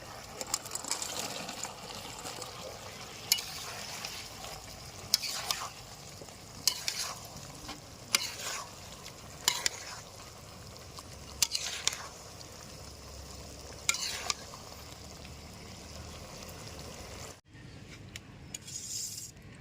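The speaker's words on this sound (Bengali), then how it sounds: "কোটিং করা ভেজে রাখা সয়াবিনগুলো এবার দিয়ে দেবো।" Coated, pre-fried soybeans tossed in a pan of chilli gravy, a close steady sizzle broken by repeated scraping spatula strokes at regular intervals, with a sudden cut near the end.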